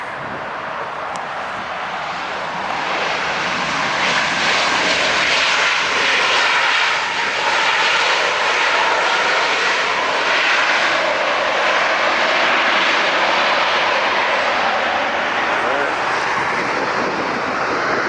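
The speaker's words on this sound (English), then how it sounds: "Beautiful landing." An airliner landing at LAX roars loudly and steadily with broadband engine noise that swells after a few seconds and holds, with a faint voice briefly audible.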